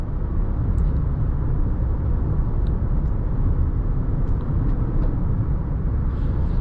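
A 2021 Toyota Highlander XSE AWD driving and accelerating, heard from inside as a steady, dense low engine and road rumble with no talking.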